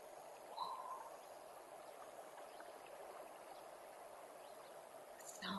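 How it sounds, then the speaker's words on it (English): The Olifants River flows with a faint, steady rushing of water heard from a distance, with a brief chirp from a bird and no talk. "Sound of the water."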